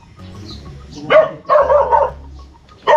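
A dog barks several times in short bursts, fairly close, with quiet pauses between the barks.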